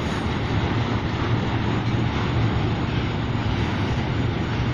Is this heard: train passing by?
yes